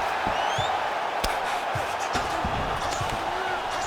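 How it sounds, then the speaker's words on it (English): Arena crowd at a UFC 302 fight between Islam Makhachev and Dustin Poirier, a steady loud roar with scattered thuds and whoops, constant crowd noise throughout with no commentary over it. "huge pop from the crowd as the fighters get back up to their feet"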